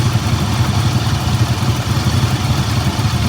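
A 1979 Cadillac Seville engine idling up close, a loud, steady low rumble with an even pulsing throb and no talk.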